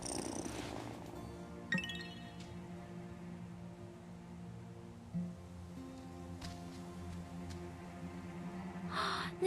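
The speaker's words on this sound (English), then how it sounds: "Listen to that purr." Cat purring in the Wylde Flowers game, a soft continuous rumbling purr, close and quiet, with a couple of brief chime-like game sounds.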